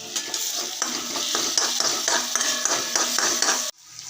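Curry leaves crackle and sizzle loudly in hot oil with garlic paste and cumin, with quick stirring scrapes in the pan before the noise cuts off abruptly.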